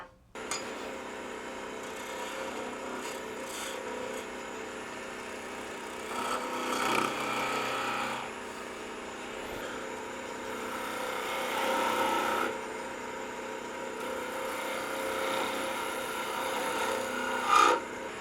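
Wooden tree shape smoothed on a wood lathe: steady raspy scraping and rubbing of a tool on spinning wood, rising and falling in intensity over roughly eighteen seconds, no talk.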